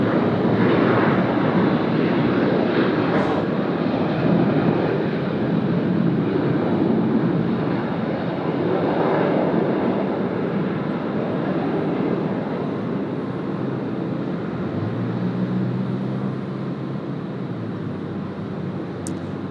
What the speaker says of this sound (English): The Velocity 807 about to come past